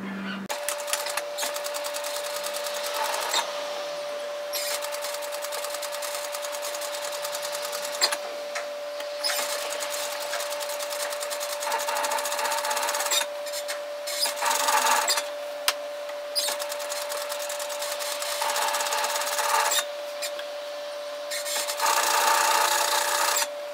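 A sewing machine stitches an eighth-inch edge seam on fabric for a lounge top, running in steady close bursts separated by short pauses, with a faint constant electrical hum beneath.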